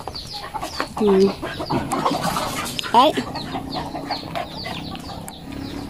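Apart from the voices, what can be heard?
chickens clucking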